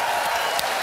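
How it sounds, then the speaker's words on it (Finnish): Studio audience applause on a Finnish comedy show, a brief, loud, dense burst of many hands clapping together. "Annetaan aplodit vielä Rikun Jäämiselle"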